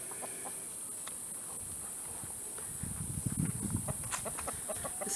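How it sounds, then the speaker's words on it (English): Hens cluck softly inside a backyard chicken coop, with scattered scratching and shuffling that grow busier toward the end over a steady background hiss. "And there is our other chicken coop."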